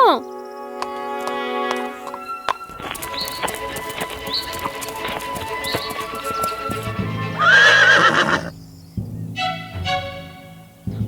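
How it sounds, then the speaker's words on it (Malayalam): A horse's hooves clip-clop in a steady rhythm and the horse neighs loudly, set in a Malayalam fairy-tale cartoon with background music and a voice speaking over it. "ആ കുതിരയുടെ പുറത്ത് കയറി വരൂ കുതിരയെ പോകാം നമുക്ക് പോകാമോ"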